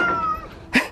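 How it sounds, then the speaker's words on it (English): Several pet cats meow at once in a short, loud burst: a sustained, whining tonal cry that fades, then a sharp, bright meow near the end, close up. "The chorus of meows."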